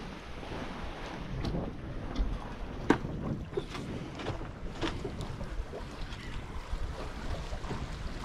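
A sailboat sails under wind alone with the engine off on an Atlantic passage toward Horta, with a steady rush of water along the hull, occasional splashes and slaps of waves, and wind buffeting the microphone.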